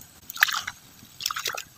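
Water dripping and splashing from washed flattened rice (chura) in a village kitchen, two short bursts of wet patter and drips, close and fairly quiet, with no talk.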